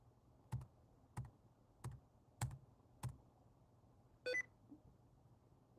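Five soft keyboard key taps come at an even pace, then a short electronic beep from the Windows Sticky Keys prompt sounds, with a couple of faint clicks trailing off in a quiet room.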